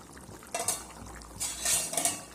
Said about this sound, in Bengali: আমি 3 মিনিট পরে ঢাকাটা খুলে নিলাম